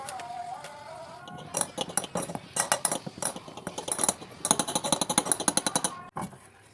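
Cake batter of flour, vanilla and baking powder gets whisked vigorously in a bowl, giving rapid rhythmic metallic clattering in bursts, close and fairly loud, before stopping abruptly near the end.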